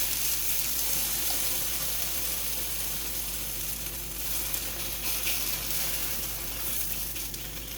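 Food sizzles in a hot pan as taco filling cooks, a steady dense hiss with faint crackle running at an even level throughout, close by, with no talking over it.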